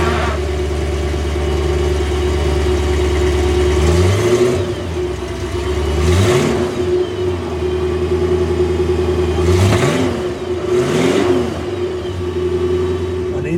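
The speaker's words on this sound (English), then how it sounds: "So let's see what this thing sounds like, shall we? Big burbly V8." Porsche 928 V8 idling with a deep burbly note, then revved in several sharp blips that rise and fall back, loud and close with no talk.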